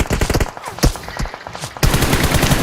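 Close, loud bursts of rapid gunfire in a 2v2 burst battle video game, with dense automatic fire, a short lull punctuated by single shots, then a sustained volley.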